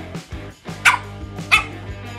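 A dog barks in short, sharp bursts, about five yips and barks spaced unevenly over two seconds, close and fairly loud with a low steady hum behind them.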